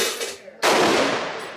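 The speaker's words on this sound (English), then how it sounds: "Shoot the gun." A single sharp, loud gunshot cracks out during target shooting and trails off in a short echo. Faint noise comes before the shot.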